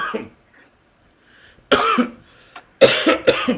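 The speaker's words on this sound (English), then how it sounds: "let's give a round of applause for the cough" A few sharp coughs close by, two or three loud bursts separated by brief quiet, with a faint murmur at the start.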